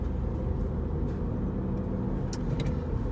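Small car with a 1 litre EcoBoost engine driving along, with a steady low engine and road rumble throughout, close and continuous, with no talking.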